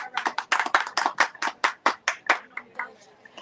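Small audience clapping at an outdoor book festival booth, a dozen or so distinct, close claps in a fairly regular rhythm, thinning out and tapering off near the end.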